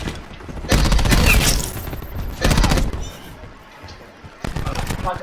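A SAUG 9mm submachine gun in Call of Duty Black Ops 4 fires rapid automatic bursts, two long loud strings and a shorter one, with a voice talking between them.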